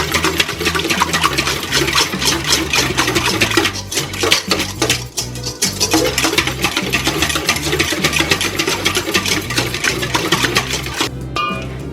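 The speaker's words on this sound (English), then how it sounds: "And then whisk that some more." Batter for twisted Korean donuts being whisked in a bowl, a fast steady clatter and scrape of the whisk against the sides that continues without a break, close and loud, with no talking.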